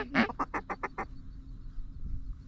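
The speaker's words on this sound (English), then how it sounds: "There's 3 mallards there." Mallard ducks quack in a quick run of about six loud, nasal calls close by over roughly a second, then only faint outdoor background with low rumble from a marsh duck hunt.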